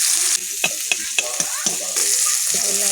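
Mixed vegetables for a Bengali shak with shrimp fry in oil, a close, bright sizzle broken by several quick clatters of a stirring spoon against the pan.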